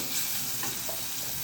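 Onion and ginger garlic paste sauté in a hot pan for pasta, giving a steady, close sizzle with slight stirring scrapes.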